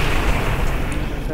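Weapons fire in the video game Quake 4 booms in dense, heavy bursts, a loud continuous barrage with no pauses.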